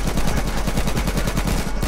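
Rapid automatic gunfire in the video game H1Z1, a fast, even stream of loud close shots that runs without a break.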